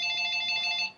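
A telephone rings in the background, a steady warbling electronic trill of several pulses lasting about a second before cutting off, fairly quiet and alone with no talk.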